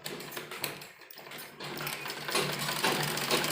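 An electric sewing machine runs steadily, stitching the front and back pieces of a suit made from a saree, its whirring needle rattle growing slightly louder toward the end.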